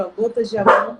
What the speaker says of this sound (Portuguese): Aí tem os cachorros agora se agitaram